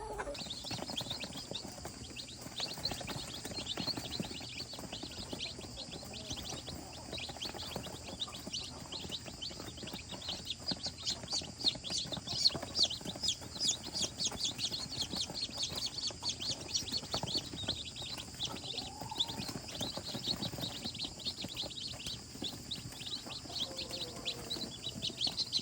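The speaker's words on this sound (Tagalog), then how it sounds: "ipapakita ko sa inyo mamaya yung ating mga sisiyo" F1 hybrid chickens and chicks chirp and cluck together in a dense, continuous chorus of high peeps, faint and close-packed, with occasional louder calls over a low background hum.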